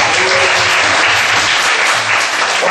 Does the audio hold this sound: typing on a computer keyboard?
no